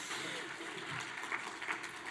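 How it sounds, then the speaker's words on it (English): Audience applause after a student government debate, a short burst of moderate clapping from a crowd, steady and fairly faint, with a few voices mixed in. "Now you can clap."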